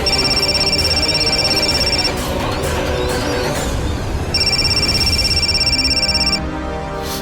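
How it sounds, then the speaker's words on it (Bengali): A telephone ringtone plays loudly in two bursts of repeating electronic tones, separated by a short gap, over a bed of background music. "ফোনটা তুমি প্লিজ একবার তোলো।"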